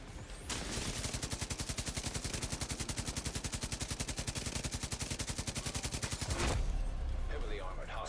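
Sustained light machine gun fire in The Division 2, a rapid, evenly spaced stream of loud shots lasting several seconds before it stops, followed by quieter game effects.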